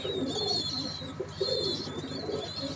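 Pappu Kashmiri Batera pigeons coo in a loft, low rolling coos repeating under a steady bed of background noise and higher chirping, close and continuous for a few seconds.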